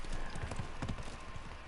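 Horse hooves clip-clop in a video game, a quick run of low thudding steps over steady background game sound, moderately loud.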